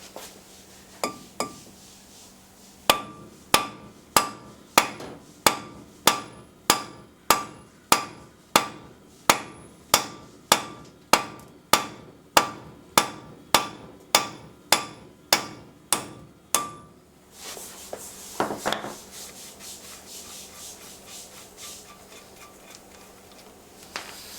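Steady metallic hammer blows knock out wheel studs in a regular rhythm, about twenty ringing clanks, then stop, leaving a few scattered clinks and low rustling.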